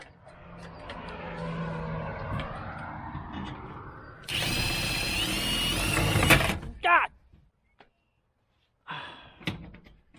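A power drill drives screws into garage siding, a loud, high-pitched whine for about two seconds ending in an abrupt stop, with a short second burst soon after; people talk beforehand and exclaim around it.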